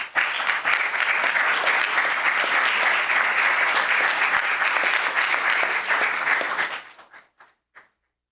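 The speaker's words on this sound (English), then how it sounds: "Let's give them a big round of applause." A room of people at a city council meeting applauds firefighters with loud, steady clapping for about seven seconds before it dies out into a few last claps.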